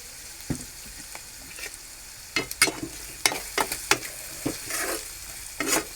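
Chopped onion sizzles in a pan while a spoon stirs it in irregular scraping bursts, close and clear, growing busier toward the end.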